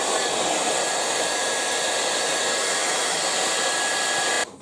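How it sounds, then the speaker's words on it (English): A hair dryer blows to dry a wet watercolour painting of rocks. Its loud, steady whirring airflow runs continuously for about four and a half seconds, then cuts off. "I'm just going to use a hair dryer."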